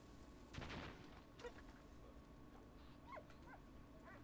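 Dog whimpering in the video game Valiant Hearts, a few faint high whines and yips over low battlefield rumble, quiet and somewhat distant.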